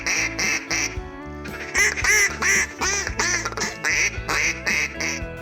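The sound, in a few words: ducks quacking during waterfowl hunt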